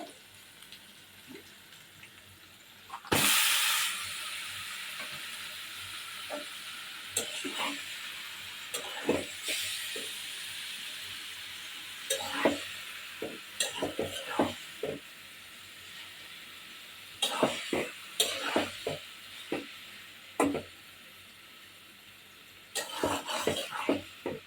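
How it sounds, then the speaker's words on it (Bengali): Noodles with egg and onion stir-fry in a pan, a steady sizzle and hiss broken by bursts of louder frying and the scrape and clatter of a utensil against the metal, close up with no talking. "এখন এর মধ্যে নুডলসটা দিয়ে দিব।"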